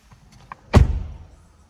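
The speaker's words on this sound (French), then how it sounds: "J'adore le bruit de la porte par contre. C'est incroyable." A Ford Mustang Mach 1 car door shuts with one solid, close, heavy thud after a few faint clicks, the low rumble fading quickly into quiet.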